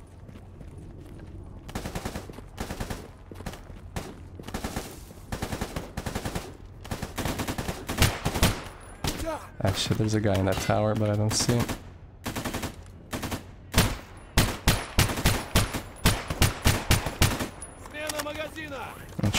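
Rapid bursts of automatic gunfire and single sharp shots in the shooter game S.T.A.L.K.E.R. Gamma, repeated over and over, loud and close, with someone talking briefly between volleys.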